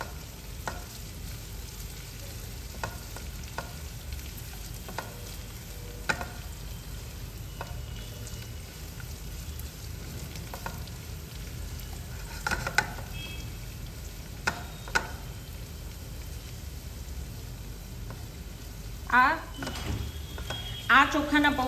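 Green chillies and curry leaves fry in hot oil for a poha chevda, a long, steady sizzle with occasional clinks of a spoon against the pot and brief stirring bursts near the end.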